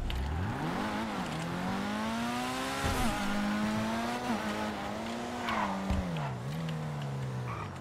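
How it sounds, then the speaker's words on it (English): A Pfister 811 supercar in GTA Online braking hard from speed, a loud engine tone sweeping down and wavering while tires squeal, continuous and close with no talk. "Wow, it stops pretty quickly with the regular brakes."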